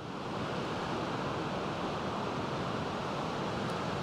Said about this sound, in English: You can tell it's really windy here today.